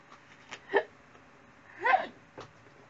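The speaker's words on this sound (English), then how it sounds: "Sorry, had a hiccup." Two short, sharp involuntary hiccups from a person, close and isolated, with faint small sounds between them.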